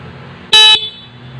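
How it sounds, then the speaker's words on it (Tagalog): A stock car horn gives one short, loud honk that stands alone against a quiet background. "Stock horn siya mga lods."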